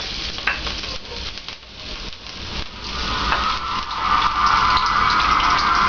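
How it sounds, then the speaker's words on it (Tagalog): Garlic sizzles in hot cooking oil in a pan, a steady close frying hiss with stirring scrapes, growing louder toward the end. "Konting gisa lang po sa bawang."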